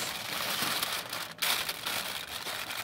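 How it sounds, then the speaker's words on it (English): Tin foil is folded and crumpled tightly around smoked baby back ribs, giving close, continuous crinkling and crackling with a brief pause midway, then more scrunching. "Crumple it up nice and good."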